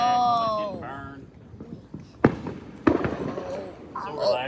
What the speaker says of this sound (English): Yeah, that was fireworks.